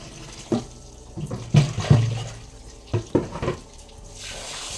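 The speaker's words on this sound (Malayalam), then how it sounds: "കൈ കഴുകാനാ പറഞ്ഞത്, വെള്ളം കളയാനല്ല പറഞ്ഞത്." Tap water runs and splashes irregularly as hands are washed, with several louder bursts of splashing close by.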